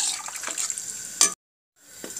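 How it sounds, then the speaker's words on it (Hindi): Water is poured into a pot of beef karahi in a home kitchen, a steady, close splashing stream that breaks off briefly and then starts again, with no talking. "अब इसमें मैं पानी शामिल करूँगी।"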